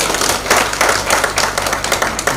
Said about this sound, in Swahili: Tupigie kabala makofi